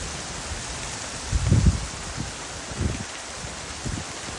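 Heavy rain falls on a yard in Utah during a sudden storm, a steady broadband hiss with a few louder gusty surges and low thumps through the middle.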